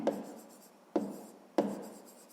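A pen writing on paper during a sixth-grade math exercise, three short scratchy strokes with brief pauses between them, close and quiet, with no voice.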